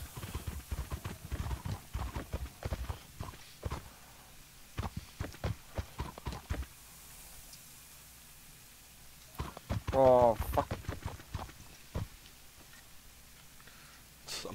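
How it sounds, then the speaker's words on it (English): Horse hooves in a video game clop in short rhythmic bursts as a rider approaches and stops, mixed with frequent speech and game sounds throughout. "He just stopped and got off his horse."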